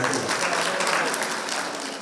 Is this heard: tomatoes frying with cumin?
no